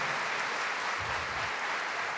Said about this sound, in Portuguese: Aplaudiu, então agora segura as palmas